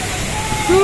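Malabsay Falls in Camarines Sur, a waterfall heard as a steady, loud broadband rush of falling water with some sloshing, filling the whole moment.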